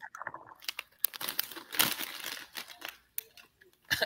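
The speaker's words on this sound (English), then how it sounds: "Crunching chips, man. Crunching chips. Bad audio experience." Chips crunch and crinkle up close in irregular bursts, crisp snaps and bag rustles separated by short pauses, with no speech.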